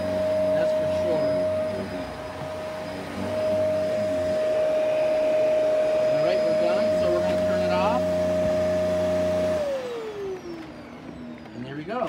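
A rotator vacuum cleaner running over a red rug, a steady droning motor with a high constant whine that drops in pitch near the end, with a voice talking over it.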